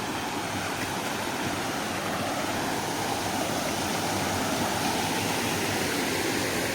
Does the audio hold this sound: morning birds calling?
no